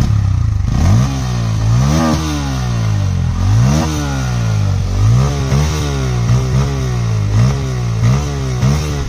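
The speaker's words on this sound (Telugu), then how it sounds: "ఈ బైక్ యొక్క ఎగ్జాస్ట్ నోట్ అయితే ఒకసారి వినండి" Bajaj Pulsar N160 motorcycle exhaust revved repeatedly up close, loud rising and falling engine note in several sharp throttle blips over about nine seconds, no talking.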